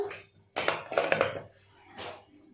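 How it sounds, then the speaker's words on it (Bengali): Metallic clanks and scrapes as a pressure cooker lid is opened after boiling elephant foot yam in a home kitchen, a few close knocks within a couple of seconds. "2টো সিটি দিয়ে প্রেসার কুকারটা নামিয়ে রেখেছিলাম, এবার খুলবো,"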